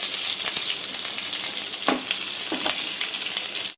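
Dried red chillies and curry leaves crackle and sizzle steadily in hot oil while beerakaya fry is being made. A couple of brief clinks of stirring come through around the middle, with no voices.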